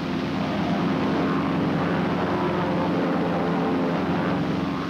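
US Navy propeller aircraft flying in formation give off a continuous droning engine roar, steady and fairly loud throughout with no voices.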